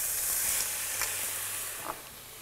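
Sliced cherry tomatoes and button mushrooms sizzling steadily in a hot pan, a continuous close hiss with a couple of brief soft stirring taps, no voices.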